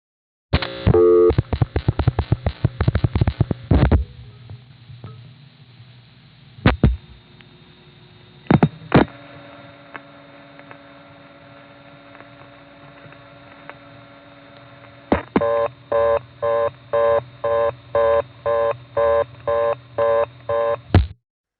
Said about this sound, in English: that's a Crossbar tandem cut through plus the sound of a Crossbar 5 responding to the number